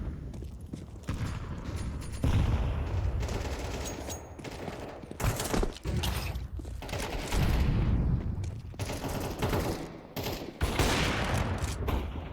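Pistol fire rattles in a FACEIT competitive shooter match, dense overlapping shots crackling almost nonstop at close range with brief lulls between volleys.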